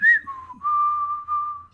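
A voice imitates someone whistling behind a door: a short, clear melodic whistle with a few sustained tones, heard alone and fairly close.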